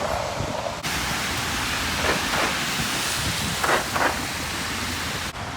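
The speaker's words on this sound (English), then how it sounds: "It's so windy down here and rainy" Steady hiss of rain with wind gusting over it, a broad continuous roar outdoors, a few louder bursts along the way.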